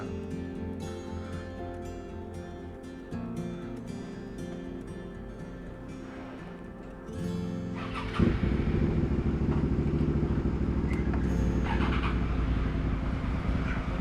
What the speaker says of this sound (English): Yeah, the cars up there are moving out.